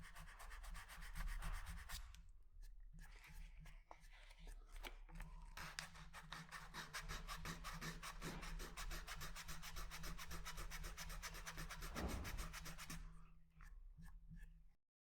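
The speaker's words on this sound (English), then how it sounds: "Come down to a lighter grade of sandpaper." Sandpaper rubs back and forth over thin wood veneer on an acoustic guitar kit body, producing rapid, even rasping strokes close up for most of the clip before stopping near the end.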